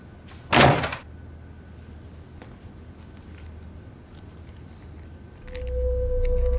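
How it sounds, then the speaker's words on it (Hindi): A door in a home shuts with a single loud thud near the start, followed by quiet room tone and a low hum rising near the end. "दरवाजा बंद करती भी जाना।"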